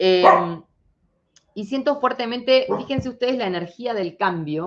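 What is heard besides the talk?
dog barking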